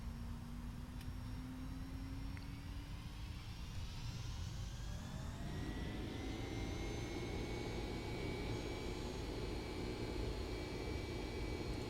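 Boeing 767 engines in a flight simulator spooling up for takeoff, a steady turbine roar with whining tones that rise in pitch over several seconds and then hold at high power, continuous and loud with no talk.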